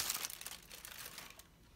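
A plastic protective bag around a 1988 Sony SRF-M50 FM radio headset crinkles softly and briefly up close as the headset is pulled out, with a quick burst of rustling that fades away.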